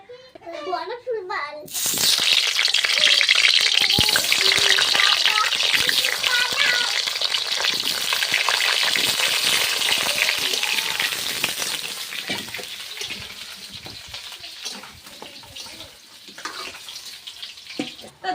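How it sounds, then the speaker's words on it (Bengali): Loud, crackling sizzle of potatoes frying in hot oil, starting abruptly after a voice and continuing steadily, gradually easing toward the end. "কড়াইতে তেল দিলাম পরিমাণ মতো এবার তেলটা গরম হয়ে গেলেই আলুটা ভেজে নেব"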